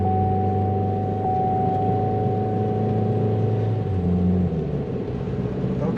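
Chevy Spark with a 1.2 liter engine driving at about 35 mph, a steady low engine drone and road rumble from inside the cabin with a faint whine running alongside.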